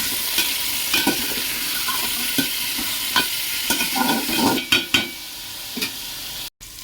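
Salted, turmeric-coated raw jackfruit pieces fry in hot oil with a steady close sizzle, punctuated by repeated scraping stirs and clatters of the spatula in the pan; no one speaks.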